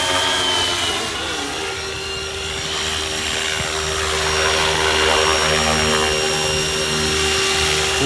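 A small RC helicopter hovers steadily nearby, its rotor and motor giving a continuous high whine with a droning buzz underneath, no voices.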